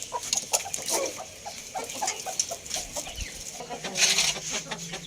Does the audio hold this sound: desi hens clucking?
yes